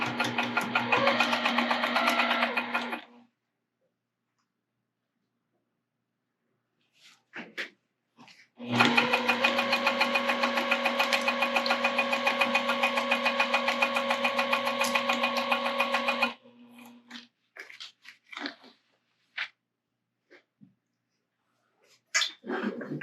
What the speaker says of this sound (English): we're going to repeat the exact thing we just did. Sew all the way across.